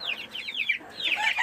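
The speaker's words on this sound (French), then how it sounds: "Mon coq qui va bien." A rooster at a backyard chicken coop with eggs nearby gives a run of soft, repeated clucks and short squawky calls, close and moderately loud, alone without talk.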